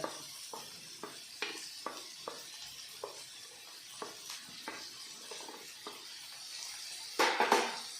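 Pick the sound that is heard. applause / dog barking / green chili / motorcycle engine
green chili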